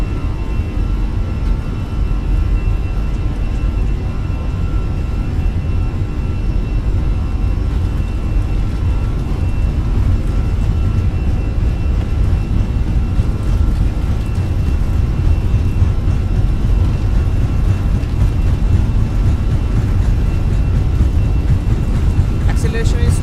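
Airliner jet engines held at takeoff thrust in a flight simulator game, a steady loud low roar and whine that stays constant throughout, with no talk.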